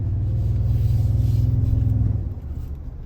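A 2022 Toyota Tundra Platinum hybrid produces a piped-in V8 engine sound: a deep, steady rumble heard from inside the truck that holds for about two seconds, then eases off into a lower, uneven drone.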